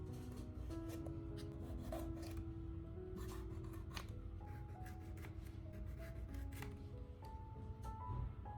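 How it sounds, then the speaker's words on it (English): A knife cuts a pepper into slices on a kitchen board, giving soft, close, irregular crunching cuts over a low steady background hum, with no talking. "Now, cut the pepper into slices without worrying about the mess."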